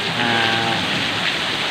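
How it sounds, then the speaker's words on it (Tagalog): Heavy rain pours steadily outside a Padre Pio church, a dense, continuous hiss and patter close by with no break in intensity. "Talaga ang lakas ng ulan"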